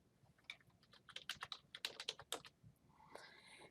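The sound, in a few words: typing a command on a computer keyboard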